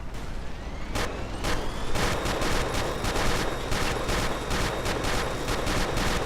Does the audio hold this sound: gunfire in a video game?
yes